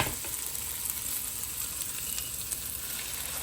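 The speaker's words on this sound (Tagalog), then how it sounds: "Ilagay na po natin ang itlog." Egg frying with cooked tomatoes in a pan sends out a continuous, even sizzle with faint crackles, close and steady for the whole stretch.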